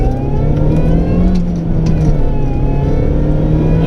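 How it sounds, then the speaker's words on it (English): A supercharged Mini Cooper S engine pulls hard and loud through the gears, with a high supercharger whine rising steadily above the roar as it accelerates. "You can really hear the supercharger whine as you go through the gears"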